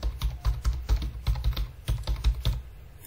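Rapid keystrokes on a computer keyboard as a website URL is entered, a close, dry run of irregular clicks with brief pauses, heard alone.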